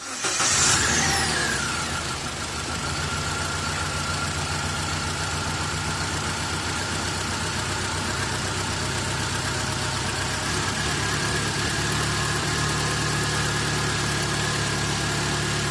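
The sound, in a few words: car engine idling and misfiring, suspected blown head gasket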